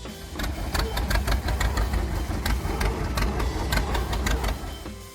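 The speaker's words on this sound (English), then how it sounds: "The distinctive pop-pop sound rang out every time the Model D started" John Deere Model D two-cylinder tractor engine runs with a steady, loud pop-pop rhythm up close, continuous throughout with no voices.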